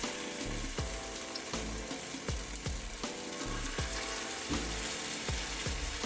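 Churros frying in hot oil give a steady, fairly quiet sizzle and crackle, broken by faint regular clicks or taps roughly every half second.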